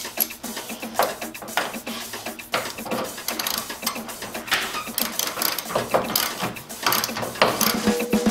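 A ratchet clicks away as fan shroud bolts come off a Jeep Wrangler during a radiator replacement, rapid metallic ratcheting in repeated bursts, close and clear.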